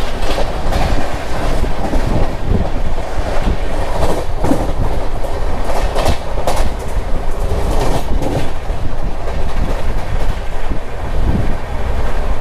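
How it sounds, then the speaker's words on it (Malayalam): An express train pulls into Kota Junction railway station with a loud, continuous rumble and a steady clickety-clack of wheels over rail joints, heard close and without any talking. "കോട്ട ജംഗ്ഷൻ റെയിൽവേ സ്റ്റേഷനിലേക്ക് ഇതാ നമ്മുടെ വണ്ടി എത്തിക്കൊണ്ടിരിക്കുകയാണ്"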